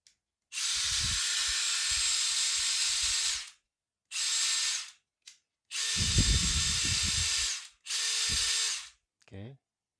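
A Dewalt 12V Xtreme cordless drill from the DCK221F2 combo kit runs at speed 1 in four separate bursts of a few seconds each. The steady motor whine is close and clear, with short silent pauses between runs.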